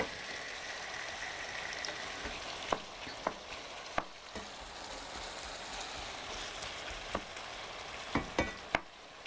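Shrimp fry in a pan with a steady, fairly quiet sizzle, broken by a few sharp clicks and taps of a utensil against the pan, most of them near the end.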